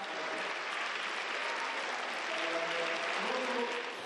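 Dense applause fills a parliament hall as a departing speaker leaves, loud and continuous throughout, with faint voices faintly audible beneath it.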